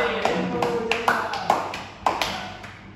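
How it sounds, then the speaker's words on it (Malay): A handful of scattered, uneven hand claps in a classroom as a pupil is called to the front during a lesson, light and sparse rather than a full round of applause. "Tepuk tangan."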